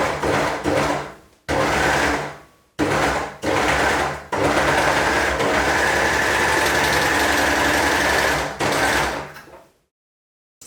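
A two-thread overlocker stitches and trims fabric edges, its motor whirring loud and close in several short bursts, then one long steady run before it stops into silence.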